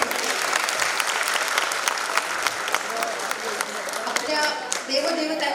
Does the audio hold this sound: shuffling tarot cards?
no